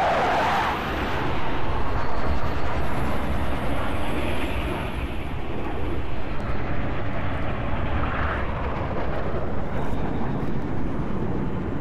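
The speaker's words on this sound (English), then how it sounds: "Team, long swords are inbound and ready to push." Longsword fighter aircraft fly in over a Halo: Reach battlefield, a loud sustained roar of engines with rumbling wash, swelling early then holding steady, no voices.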